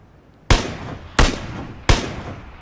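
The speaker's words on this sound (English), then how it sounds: "Oh, there's a guy prone right in front of me. I shoot him." Three loud, close gunshots ring out in the video game PUBG, evenly spaced about two-thirds of a second apart, each a sharp crack with a decaying tail and no talk over them.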